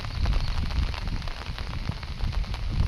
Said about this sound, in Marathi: जोराचा पाऊस चालू आहे